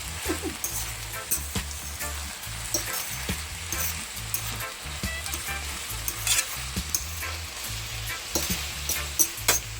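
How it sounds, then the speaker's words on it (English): Bell pepper sizzling and frying in a pan of Jamaican ackee and salt mackerel, a steady close crackle with occasional stirring scrapes, no talk. "Okay guys, I'm going to add my bell pepper now."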